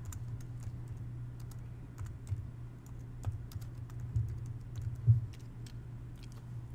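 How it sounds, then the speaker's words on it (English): Typing on a computer keyboard: a string of light, quick key clicks at an irregular pace over a low steady hum, fairly faint and with no voices. "And I'm going to type my name."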